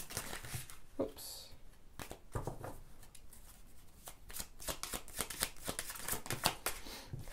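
A deck of tarot cards is shuffled by hand, giving a quick run of crisp riffling and flicking bursts, close and fairly quiet, with small pauses between shuffles.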